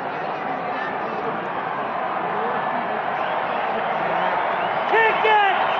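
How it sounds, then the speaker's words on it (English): Raucous crowd noise fills the stands at a Vodafone Warriors rugby game, a steady dense roar of many voices with a few louder shouts and whoops rising near the end. "This is how raucous a crowd can get."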